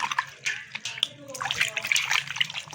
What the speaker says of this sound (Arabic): انا هاخد صابونه كده ارغي بيها قدامكم. دي ميه عاديه خالص من الحنفيه اهي